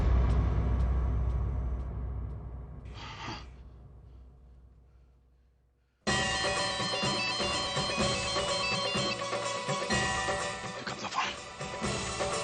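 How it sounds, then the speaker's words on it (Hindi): A phone rings on and on with no answer, a repeating electronic ringtone heard loudly under dramatic background music in a Hindi TV serial, with a brief dip to near silence midway. "कोई नहीं उठा रहा फोन।"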